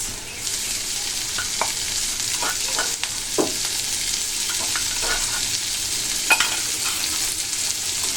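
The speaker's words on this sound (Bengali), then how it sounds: "প্রথমে দিয়ে দিব তেল পেঁয়াজ একটু ভালোভাবে ভেজে নিতে হবে দিব একটু গোটা জিরে এরপরে দিব কাঁচামরিচ" Onion, whole cumin and green chili fry in oil for a fish curry, giving a constant bright sizzle close up, punctuated by scattered spatula scrapes as the mixture is stirred.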